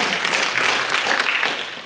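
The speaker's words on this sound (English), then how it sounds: "Please give him a round of applause." Audience applause at a city council candidate forum in Pearland, a steady wash of clapping from a crowd that holds evenly for about two seconds and tapers slightly at the end.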